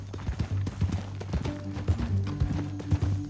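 Horse hooves clip-clop at a steady, quick rhythm in Red Dead Redemption 2, close and distinct over a low, constant drone with no one talking.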